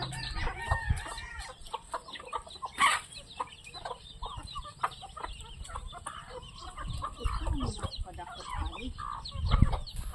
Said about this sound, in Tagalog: Ang daming manok ni Lola,